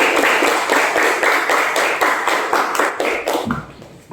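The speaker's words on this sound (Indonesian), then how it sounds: "Tepuk tangan untuk kita semua." Children clapping their hands together in a steady, rhythmic burst of roughly a dozen claps, loud and close, fading toward the end; setting is a classroom Quran lesson.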